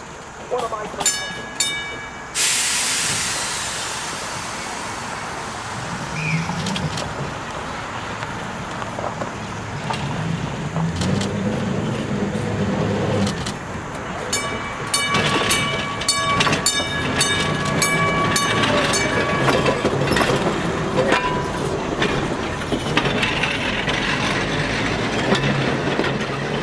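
A vintage New Orleans streetcar, number 836, rolls in on trolley museum rails during an anniversary parade with a steady rumble, metallic squeals and clanks, and a brief horn-like tone near the start, with people talking faintly nearby.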